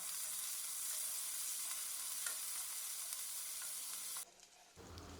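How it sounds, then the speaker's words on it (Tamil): Finely chopped onion sautéing in a pressure cooker for mint biryani, a steady, faint hiss of sizzling oil that drops off abruptly near the end, with no voices. "இதையும் போட்டு பொன்னிறமாக வர வரைக்கும் வதக்கிடலாம்"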